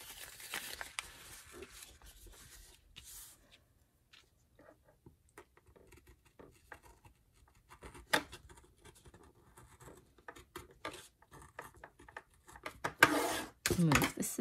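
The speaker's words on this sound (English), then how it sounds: "This is my gyro cutter and a cutting mat that I got from the Dollar Tree." A gyro cutter scratches as it cuts paper on a Dollar Tree cutting mat, producing quiet intermittent scraping and tapping strokes, with a few louder rustles of handled paper.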